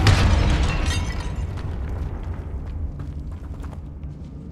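A Confringo fire-blast spell explodes in Hogwarts Legacy with a loud, booming burst up front, then a rumbling, crackling tail that slowly fades with scattered small pops.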